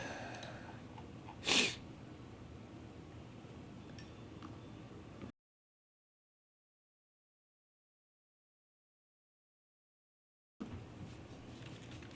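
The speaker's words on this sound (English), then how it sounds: "just having sneezing fits now" A single sharp sneeze during a sneezing fit, close and fairly loud against a quiet indoor room, followed by faint clicks and a stretch of silence.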